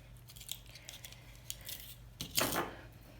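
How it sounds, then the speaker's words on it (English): Cutters snip thin weaving wire for wrapping sea glass, giving a few faint close clicks followed by a sharper metallic snip near the end, quiet against low background hum. "I'm going to snip off about 6 or 7 inches"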